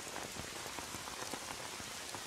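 Steady rain falls outdoors, a dense, even hiss of drops striking surfaces close by, with no voices.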